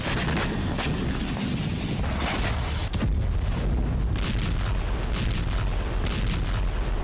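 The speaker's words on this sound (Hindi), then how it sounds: "तो कहीं आर्टिलरी शेल और MLRS से बारूदी भूचाल।" Continuous rumbling barrage of heavy artillery shell and multiple rocket launcher blasts in the Russia-Ukraine war, with sharp bursts cutting through a dense, roaring background of distant explosions.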